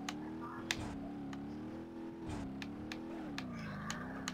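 A Reliant Robin-style truck engine in BeamNG.drive hums and revs with a wavering drone that rises and falls, steady and close, with a few sharp ticks over it and no talk.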